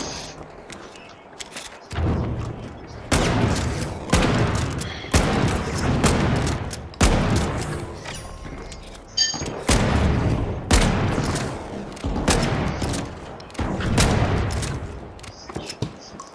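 Heavy gunfire booms out in THE FINALS, a run of loud, close blasts in irregular bursts several seconds apart, with a boomy tail after each shot and no talking between them.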